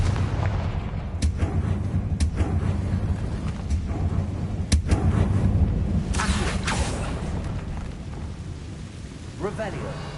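Confringo explosion spells in Hogwarts Legacy burst as a series of sharp booms, several spaced blasts with rumbling tails, amid low ambient game sound and a louder flurry of effects near the end.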